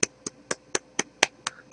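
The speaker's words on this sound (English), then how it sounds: "please golf clap like this" A gentle golf clap: eight soft, light hand claps in a quick, even rhythm, close by and alone with no voices.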